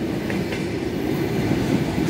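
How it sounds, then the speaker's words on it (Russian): A loud, continuous rumble of an electric commuter train from Elektrogorsk at a Moscow rail platform, with rolling wheel clatter close by. "Приехала электричка из Электрогорска"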